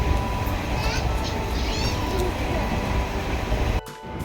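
A train rumbles along steadily, with a dense low roar and occasional squeals. People talk faintly under the noise before it drops away abruptly near the end.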